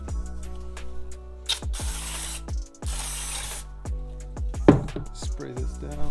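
Aerosol cleaner hisses in two long, loud bursts onto a Honda Type R cylinder head during assembly, the sprays set between sharp metallic clicks and ringing taps from parts being handled.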